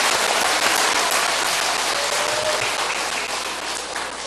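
A church congregation at a Wednesday evening revival meeting applauds in welcome, a loud, dense, continuous roar of many clapping hands that holds steady for several seconds with no voices standing out.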